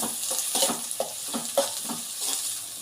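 Finely chopped onions frying in a pan, stirred in quick repeated strokes that give a rhythmic scraping pulse over a bright, steady sizzle, close up and with no voices.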